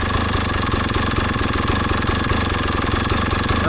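A 2022 Beta 200RR Race Edition motorcycle engine idles steadily up close, a continuous loud two-stroke putter with a dense, even rhythm and no talking.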